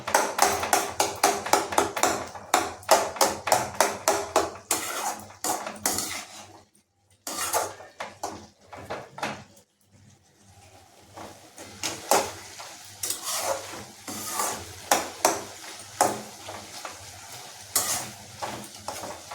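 Cooked red pumpkin bhaji being stirred in a pan: a rapid run of metallic spoon scrapes and clinks against the pan, a short pause, then slower, irregular stirring knocks over a faint sizzle.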